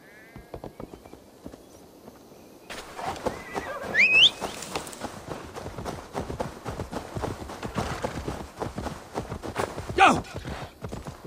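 Horse hooves clip-clopping in Assassin's Creed Valhalla, a brisk, steady rhythm of close hoofbeats with a whinny, under someone talking.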